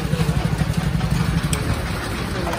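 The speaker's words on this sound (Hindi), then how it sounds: "मोटरसाइकिल कढ लिया वा" A motorcycle or scooter engine runs close by with a low, throbbing idle and a faint pulsing rhythm, under steady background noise.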